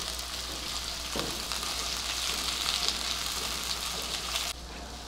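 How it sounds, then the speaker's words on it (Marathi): Onion sautéing in a pan for homemade pizza sauce: a steady, fairly loud broadband sizzle runs throughout, with a faint stir around the middle, and the level drops slightly near the end. "कांदा थोडा परतून घेऊया आपण"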